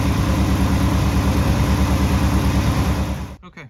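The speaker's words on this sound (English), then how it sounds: "A little bit of low idle right at the beginning, but now it seems to be sitting there doing good." A 1966 Ford F100 engine idles loud and close with a steady, even rumble that cuts off abruptly near the end, leaving a few faint sounds.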